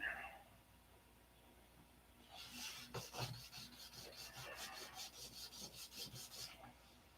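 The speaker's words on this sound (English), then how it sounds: "I need to sand it off and then retouch it." Hand sanding a spot of filler before paint retouching, a soft rhythmic rasping of quick strokes that starts after a quiet pause, close but faint.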